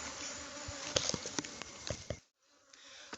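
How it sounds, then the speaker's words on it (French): Bees hum around a wild colony that settled on its own at a farm near Cotonou. The buzzing stays constant and close, with sharp ticks and taps over it, then cuts out briefly before returning faintly. "nous sommes allés visiter une colonie d'abeilles"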